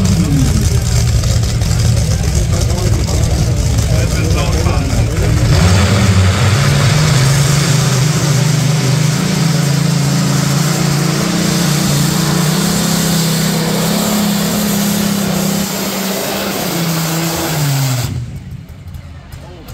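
Rolls-Royce Griffon aero engine powering a tractor-pulling tractor at a pulling event in Sonsbeck, a deep thunderous roar that rises in pitch, holds steady for a long pull, then cuts off near the end, with an announcer talking over it.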